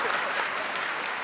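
A studio audience at a televised family game show breaks into loud, dense applause that holds steady from start to finish.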